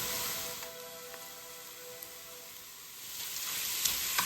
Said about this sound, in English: Let's get the beef dry fried.